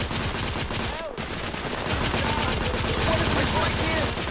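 Steady machine-gun fire in The Order: 1886, a fast unbroken rattle of shots throughout, loud and near, with a brief dip in the middle and faint voices under the din.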